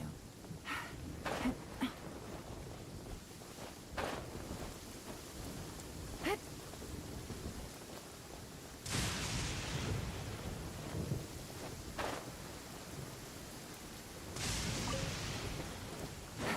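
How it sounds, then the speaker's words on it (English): Thunderstorm in the video game Genshin Impact, steady rain hissing under several sharp thunder cracks and two longer rolling rumbles, fairly faint overall. "innocent children and timid adults are scared of thunder."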